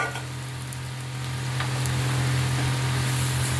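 Onions sautéing in a pan for a Tamil kuzhambu give off a steady, soft sizzle and hiss. A constant low hum sits beneath it, and no one talks.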